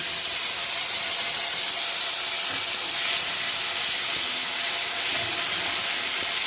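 Steady, loud sizzling hiss of whole spices, a dried red chilli, cardamom, cloves, cinnamon and ground spice paste frying in hot oil for a Bengali prawn dish, continuous and close throughout.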